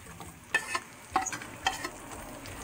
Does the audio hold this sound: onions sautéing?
yes